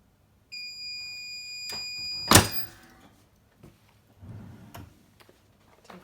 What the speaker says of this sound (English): the timer on my Craft Pro is set for 10 seconds